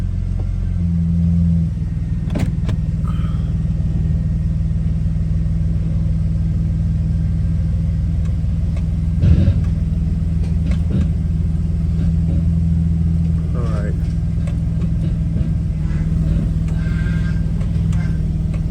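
A Mercedes C300 4Matic engine idles steadily after start-up on new polyurethane transmission mounts, a low constant rumble with a few faint clicks and shifts in tone riding over the drone.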